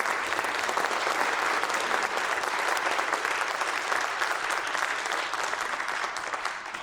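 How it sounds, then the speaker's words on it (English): Sustained audience applause in a high school auditorium following a wind band piece at a fall concert, a dense steady wash of many hands clapping that tapers slightly toward the end. "So one more round of applause for that."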